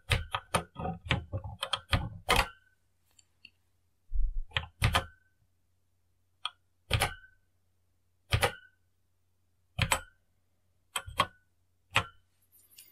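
Keys on an Acorn Electron computer keyboard are pressed as a quick flurry of close plastic clacks, followed by single spaced presses at irregular intervals separated by quiet gaps.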